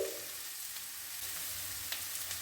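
Onions with turmeric powder frying in a pan for a bean taco filling, giving a continuous crackling sizzle broken by light stirring scrapes, close and alone.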